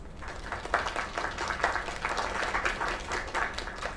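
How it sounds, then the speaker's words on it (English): An audience claps for a singer's performance, a busy patter of many hands at moderate volume that runs steadily throughout. "Another round of applause"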